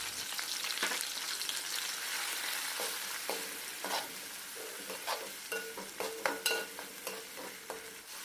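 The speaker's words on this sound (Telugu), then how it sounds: "ఉల్లిపాయ పేస్టు వేగటానికి సరిపడా కళ్ళుప్పును వేసుకొని బాగా వేగనివ్వాలి." Onion paste and green chillies frying in a pan with salt for a koyyinga fish curry, a steady sizzle broken by repeated scraping stirs that grow busier toward the end, close by with no talk.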